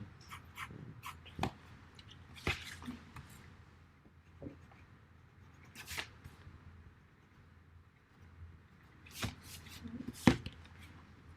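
Pencil or pen marks on paper while freehand drawing over a grid, heard as scattered light scratches and taps with quiet pauses between strokes.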